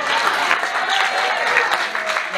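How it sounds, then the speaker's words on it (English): An audience at a youth sports awards party applauds, a steady, dense wash of clapping that is loud and close with no break for its whole length. "So, big round of applause for Division 2."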